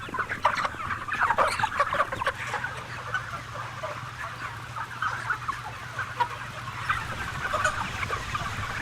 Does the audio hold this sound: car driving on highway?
no